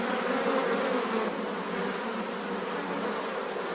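Bees buzzing inside a hive, a dense, steady drone of many wings that stays loud and close without a break and has no voices over it.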